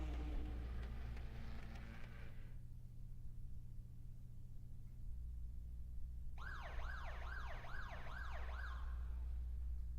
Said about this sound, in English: And that siren, of course, sends us into the race session.